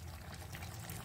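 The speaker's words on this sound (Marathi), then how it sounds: "आपण थोडस पाणी घालूया" Water poured into a pot of kheer cooking on the stove, a soft, steady splashing pour that is faint and close and runs without a break, with no voices.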